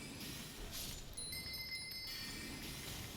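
Stormveil Castle alarm bells in Elden Ring ring out as a few thin, bright metallic tones over a dense, steady wash of game ambience.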